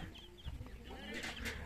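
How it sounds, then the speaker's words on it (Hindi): A domestic desi rooster moving through jungle undergrowth gives a few soft, brief clucks, faint and half-buried in steady outdoor background noise. "और देखिए मुर्गा जा रहा है"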